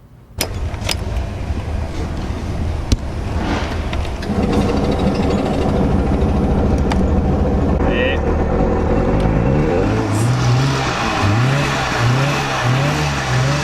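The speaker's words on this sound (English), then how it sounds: "Two-stroke power." A Goggomobil's small two-stroke engine cranks and catches, then settles into a steady buzzing idle with a few revs near the end, loud and close, with people talking over it.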